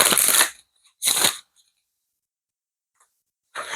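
A deck of tarot cards is shuffled in two quick riffling bursts, close and crisp, then a pause and a third burst at the end, with near silence between.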